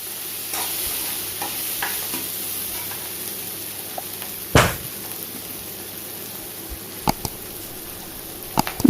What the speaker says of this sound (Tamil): இப்போ காயெல்லாம் எனக்கு நல்லா வதங்கிடுச்சு